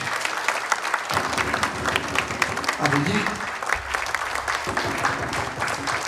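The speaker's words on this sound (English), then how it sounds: "A huge round of applause for my team" A conference audience applauds a presenting team, dense clapping filling the room throughout while a voice speaks over it.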